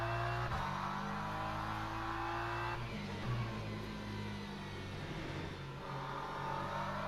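A multiclass sim-racing game's LMGT3 race car at Qatar accelerates out of a corner, its engine drone rising steadily in pitch and staying loud and continuous, with tire and road noise underneath.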